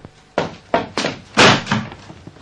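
A door is knocked or thumped several times and then shut, with a series of sharp, close wooden impacts spaced irregularly, the loudest near the middle, in a quiet indoor room.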